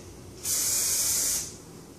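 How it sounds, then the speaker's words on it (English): One long burst of hairspray hisses from an aerosol can for about a second, then stops. "do one more big spray"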